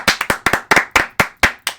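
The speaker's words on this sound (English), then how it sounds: "Let's give a round of applause to Manny Machado and Nolan Arenado." A small round of applause, several sharp distinct hand claps in an irregular rhythm, close and clear, from just one or two people with no crowd behind them.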